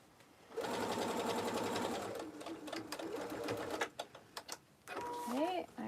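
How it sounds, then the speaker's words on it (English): A sewing machine runs in a steady continuous whir while stitching the lining of a tote bag, then slows into a few short bursts before running steadily again near the end. "I also like to stitch from the top so that I can make sure that that seam on the side is open"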